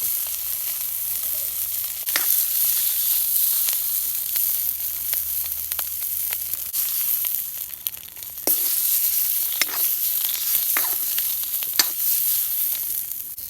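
Eggs fry in a pan with a bright, constant sizzle lasting over thirteen seconds. Scattered scraping and crackling ticks come from stirring, and no one speaks.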